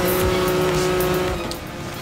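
Race car engine in Forza Horizon 3 holds a loud, steady high-revving drone with tire noise, easing off slightly near the end, with no talk over it.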